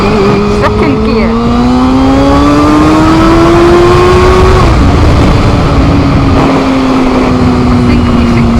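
Loud, close Volvo car engine revs up through first gear, its pitch climbing steadily, then drops briefly at the shift into second and keeps pulling as it accelerates again.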